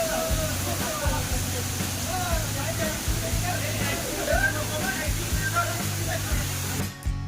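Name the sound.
waterfall fed by mountain water in the rain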